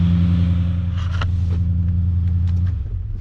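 An Audi A7 engine idles with open downpipes and no exhaust fitted, giving a loud, deep droning rumble up close, with a brief blip of revs partway through before settling.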